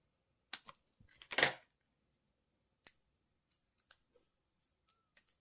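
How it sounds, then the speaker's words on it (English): Scissors snipping the edges of foam dimensional adhesive strips at a papercraft card-making desk, a few sharp close cuts followed by scattered light clicks in an otherwise quiet room. "you can take your dimensionals and cut the edges"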